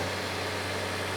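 A Toyota 90 Series Prado engine idling in poor, neglected condition, a steady low mechanical drone heard close up for a brief moment.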